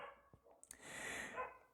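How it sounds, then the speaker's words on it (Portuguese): A neighbour's dog barks, a couple of short, faint yips and one fuller bark heard from some distance, with a breathy whine around them. "E ele está latindo."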